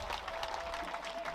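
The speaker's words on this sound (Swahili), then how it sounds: "makofi mazuri kwao" Applause at a send-off ceremony for Miriam Wanjiru Maina, a steady wash of clapping from a crowd lasting over a second, fairly even and dense with no speech.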